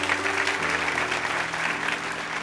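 A church congregation applauds during a sermon, a thick, continuous wash of clapping from many hands filling the room, with a faint held tone underneath.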